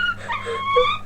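A docked-tail puppy whimpers and whines in a series of high, wavering moans that rise and fall close by, with no talk over it.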